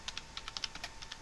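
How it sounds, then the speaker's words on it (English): Rapid bursts of typing on a sticky computer keyboard during a Kerbal Space Program session, roughly a dozen short clacks in an uneven rhythm, close and fairly quiet, with no talking. "Sorry, it's my keyboard. It gets a bit sticky sometimes."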